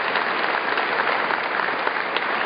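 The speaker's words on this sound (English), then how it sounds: "Please give them a round of applause." A large audience at a university spring convocation claps steadily, a loud, even stream of many hands that holds for a couple of seconds without talk.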